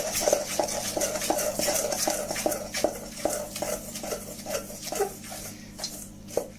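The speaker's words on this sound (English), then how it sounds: "you're just going to mix together until it makes a wee paste" A spoon working a tablespoon of milk into crumbly biscuit mixture in a bowl for Empire biscuits, giving a quiet rhythmic scraping and stirring with light clinks against the bowl.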